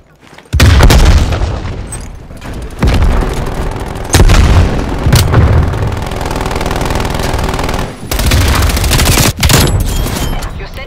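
Frag grenade explosions and heavy gunfire in the video game Call of Duty: Black Ops Cold War, loud booming blasts over continuous battle noise with several sharp bursts.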